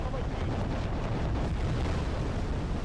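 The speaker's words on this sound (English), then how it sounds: "We're calling in some artillery" Artillery strike explosions in the war game Wargame Air Land Battle, a dense rumbling roar of distant blasts rolling on continuously for a few seconds.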